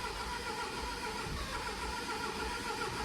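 A Jaguar XF with an automatic gearbox cranks over without firing, a steady rough whirring churn from the starter and engine that continues at an even level throughout without catching.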